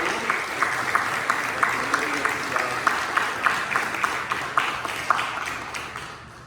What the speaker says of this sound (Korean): 우리 박수로 한번 우리 하나님 영광을 드려드리며 천국의 박수